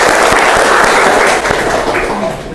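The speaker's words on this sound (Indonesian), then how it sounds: "Tepuk tangan dulu buat Andika." A classroom of students claps for a classmate, loud and close, with a few sharp individual claps standing out from the dense patter before it thins and fades over a couple of seconds.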